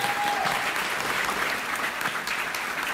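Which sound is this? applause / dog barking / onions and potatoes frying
applause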